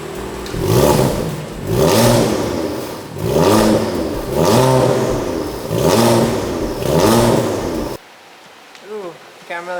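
BMW F82 M4 with a Remus exhaust and equal-length midpipe revving repeatedly, six loud rising and falling blips in a row, then quieter idling with a brief voice at the end.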